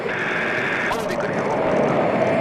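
Mirage 2000 fighter jet taking off during a solo display, a loud, steady engine roar filling the whole clip, with a brief burst partway through and a cockpit voice over it.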